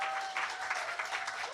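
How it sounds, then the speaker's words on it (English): Live podcast audience at a YorNight 2018 recording applauding, a brief steady patter of clapping from a modest crowd, fairly faint and with no talk over it. "Kepler deserves an applause."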